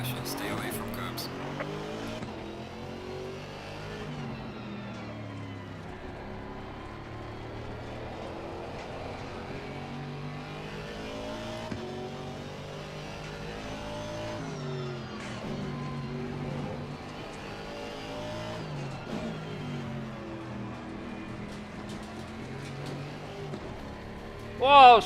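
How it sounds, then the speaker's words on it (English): A V8 twin-turbo GT4 race car engine from the Assetto Corsa Competizione racing game rises and falls through repeated gear shifts and revs, with tire noise and someone talking over it. "Listen to that beauty. V8 twin turbo engine."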